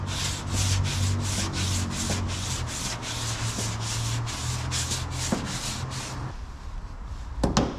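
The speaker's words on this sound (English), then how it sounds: "I'm going to try using the block sander now" Steady back-and-forth strokes of a hand block sander rubbing a VW bus body panel during dent removal, about fifteen even rasping passes, close and moderately loud, stopping near the end.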